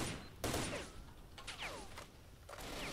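Gunfire from the video game S.T.A.L.K.E.R.: Shadow of Chernobyl, with a sharp shot burst followed by quieter whooshing and ringing tails, heard at moderate-to-faint level with no talk.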